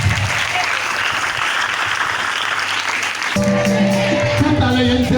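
Church congregation at a Pentecost service bursts into loud, sustained applause and cheering, a dense wash of clapping that gives way near the end to music.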